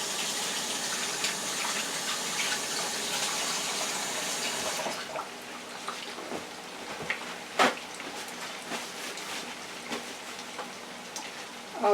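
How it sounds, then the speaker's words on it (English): A kitchen tap runs in a steady loud gush for several seconds, then hands are washed under it with splashing and scattered drips as the flow changes. "Wash my hands."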